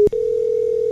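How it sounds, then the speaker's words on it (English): Ringback tone on an outgoing telephone call: a steady, loud single-pitched tone held for most of a second after a short break. "It's ringing."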